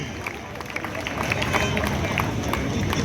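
An audience at a Rajasthani poetry gathering claps steadily in a dense, continuous wash of applause, fairly loud and close, with a murmur of crowd voices underneath.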